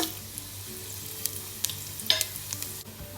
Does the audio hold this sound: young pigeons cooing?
no